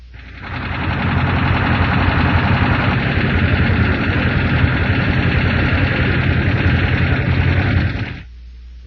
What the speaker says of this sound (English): then an engine with loose valves